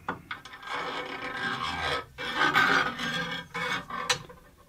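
Threaded bar fed by hand through new CNC nut blocks, giving close, quiet scraping and rasping in uneven bursts with brief pauses between them.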